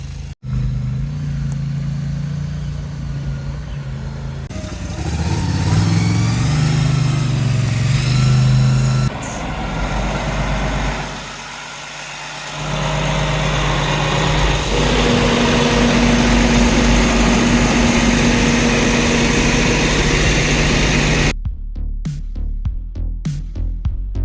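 A truck engine hauling a 14x36 finished tiny house rumbles up close, idling and revving with shifting pitch. Its loudness swells and dips for about twenty seconds before trailing into scattered knocks.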